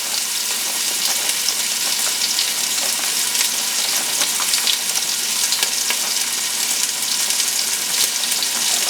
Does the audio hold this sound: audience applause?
no